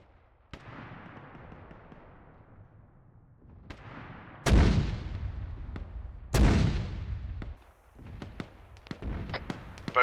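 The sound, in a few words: marker mortar rounds firing in video game Arma 3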